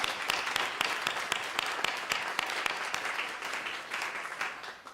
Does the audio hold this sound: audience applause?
yes